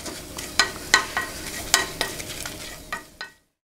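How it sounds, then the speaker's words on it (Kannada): Ground curry leaves, cumin and pepper frying in oil, heard as a soft steady sizzle broken by several scraping, clinking stirs in the pan before it suddenly stops. "ಅದನ್ನು ಹಾಕ್ಕೊಂಡು ಸ್ವಲ್ಪ ಎಣ್ಣೆಲಿ ಫ್ರೈ ಮಾಡ್ಕೋಬೇಕು"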